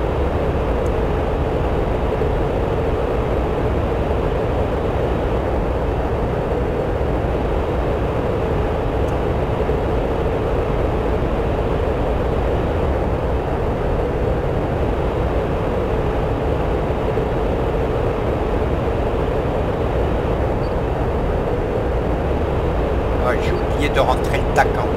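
A Mirage 2000 fighter jet's cockpit fills with a loud, steady roar and rushing air noise during high-speed flight, unbroken throughout, with a voice speaking over it.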